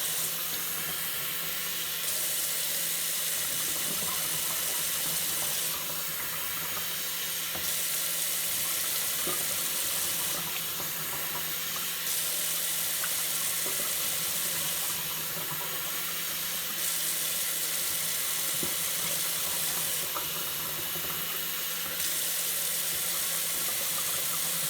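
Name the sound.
pouring hot water for KillerOrange hog bait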